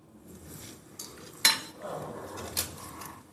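A metal teaspoon clinks against a heating pan as desi ghee is added, one sharp clear clink followed by a softer second tap over a quiet kitchen background.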